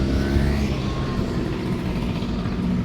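Classic rally car, an Alfa, passing at the Coupe des Alpes among Porsche 911s, its engine a steady loud roar with a slight pitch sweep as it goes by, no voices over it.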